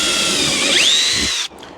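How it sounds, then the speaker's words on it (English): A power drill bores holes in a wall to mount an electrical switchboard: a loud, steady high-pitched whine and grind that holds for about a second and a half, then cuts off sharply into near silence. "We drill that hole."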